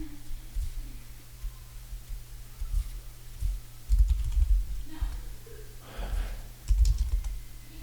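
Soft, irregular clicks of keys on a computer keyboard as a password is typed, quiet bursts of keystrokes over a low steady electrical hum, close and faint.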